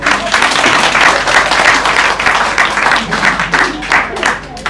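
A church congregation applauds during a sermon, a loud, sustained wash of clapping hands that holds steady for the whole stretch with no pauses.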